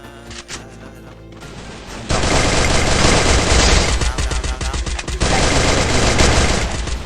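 Gunfire in the video game Free Fire: quieter shots at first, then sustained loud automatic bursts of rapid fire with brief gaps, close and dense.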